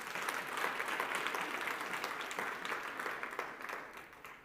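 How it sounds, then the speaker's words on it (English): Sustained applause from a large crowd at a company annual financial results presentation, steady and dense clapping throughout with no talking, gradually easing slightly toward the end. "I would like us to give a round of applause for that"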